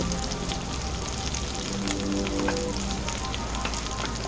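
Ground cumin and coriander fry with ginger-garlic in a pan, giving an even, continuous sizzle with fine crackling throughout, close and steady with no talking.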